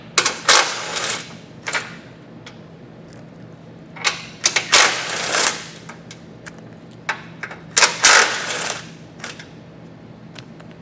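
A ratchet turning a 15mm socket on bumper beam fasteners of a 2023 Chevrolet: a series of sharp, close ratcheting bursts in uneven clusters, separated by short quiet gaps.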